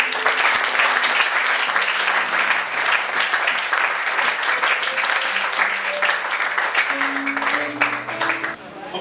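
A church congregation applauds and cheers, sustained loud clapping throughout with crowd voices and some tones underneath, easing slightly near the end.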